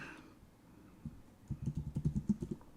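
Quick bursts of keystrokes on a computer keyboard, a dozen or so close clicks in a rapid, slightly uneven rhythm, preceded by a single tap, quiet and without talk.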